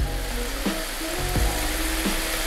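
Kakiage tempura fritters fry in hot oil, a dense, steady crackling sizzle with a few soft clicks and knocks as batter is dropped in and moved, loud and without talk.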